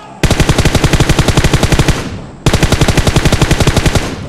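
Automatic gunfire in the PUBG Mobile battle royale game, two loud, close bursts of rapid, evenly spaced shots, one after the other with a brief break between, and no talk.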